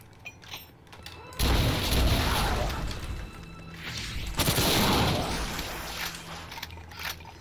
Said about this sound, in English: Now we're gonna have flame cannons